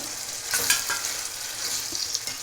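Fried eggs and yolks being stirred into a simmering masala in a pan, giving a steady bright sizzle with soft scraping strokes, close and continuous with no talking.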